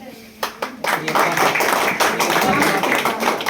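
An audience at a Hindi-language event gives a welcoming round of applause, starting with a few separate claps and then swelling into sustained, dense clapping, with a voice speaking over it.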